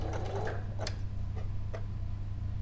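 An industrial sewing machine stitching slowly around a fabric seam produces a low steady motor hum with a few soft, spaced mechanical ticks.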